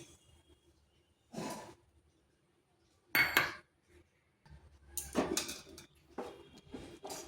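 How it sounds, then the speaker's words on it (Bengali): Half a bowl of dry semolina tipped into an unheated kadai wok, with a few separate scraping and clattering bursts of grain and metal, fairly close, no talking. "এখানে একটা কড়াই বসিয়েছি, দিয়ে দিচ্ছি হাফ বাটি সুজি,"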